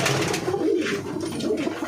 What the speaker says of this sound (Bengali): এরকম গেরেবাজ পায়রা আছে